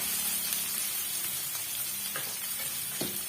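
Steady sizzling of finely chopped large onions frying in hot oil for a mutton dish, a continuous crackling hiss with a few sharper pops and stirring scrapes.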